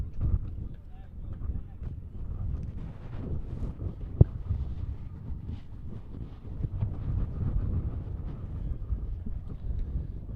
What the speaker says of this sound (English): The wind's gusting here a little bit.